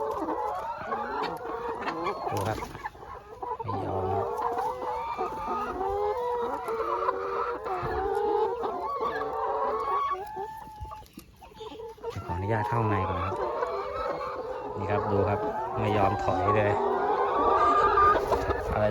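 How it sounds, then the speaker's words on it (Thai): Laying hens crowd a chicken coop of about ninety-four birds, clucking and squawking in overlapping bursts close by, while someone talks over the flock. "นี่ครับไก่ไข่"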